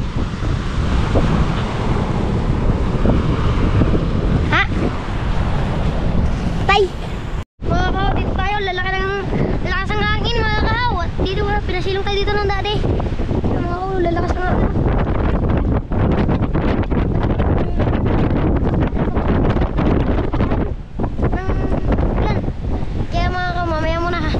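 Strong outdoor wind buffeting the microphone, a loud continuous roar and rumble with a few short dropouts, while people talk intermittently underneath.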